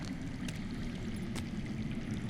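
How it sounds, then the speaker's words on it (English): Steady underground water flowing in a Game of Thrones Telltale video game, a continuous low rushing wash with faint trickling, constant and moderately distant with no talk. "I hear water. From underground."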